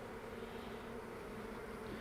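Honey bees in a small nuc hive make a dense, continuous buzz that stays level and close throughout.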